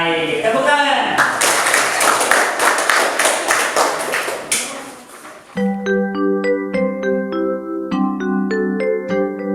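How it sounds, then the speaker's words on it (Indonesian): A primary-school class of pupils clapping hands together in a dense burst lasting several seconds, loud and close, then cutting off as bright chiming musical tones take over in a regular pattern. "Baik, tepuk tangan."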